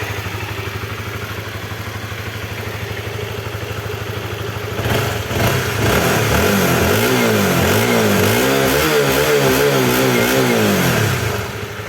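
A Honda CB150R motorcycle engine with a newly fitted balancer idles steadily up close, then is blipped through several revving surges from about five seconds on, loud and without talk.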